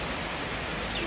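Steady, dense hiss of heavy rain falling close by after two days of rain, unbroken for the whole moment.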